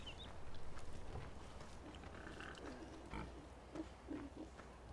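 Pigs in their pen on a farm in Farming Simulator 17, faint scattered grunts and snorts at a distance over a low steady background hum.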